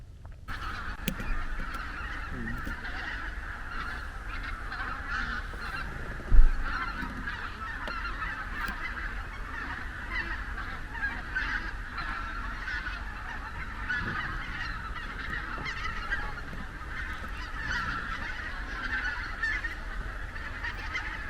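A large flock of wild geese flying overhead honks steadily and continuously for a long stretch, the calls layered and somewhat distant, with no talking.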